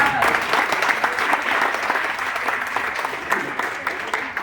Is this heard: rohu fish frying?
no